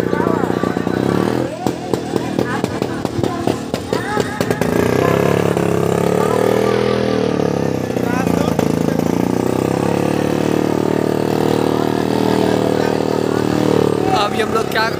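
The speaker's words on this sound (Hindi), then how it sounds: "उधर मोटरसाइकिल चलता है" Motorcycles run at a village fair in Banmankhi, Bihar, their engines droning and revving steadily amid fairground bustle, with people talking over them throughout.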